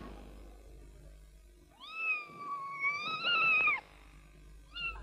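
A Siamese cat gives two long, rising-and-falling meows, fairly close, followed by the start of a third, indoors in a Pakistani short telefilm with no talk.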